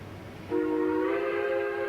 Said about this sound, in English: Nice whistle, but no chuff sounds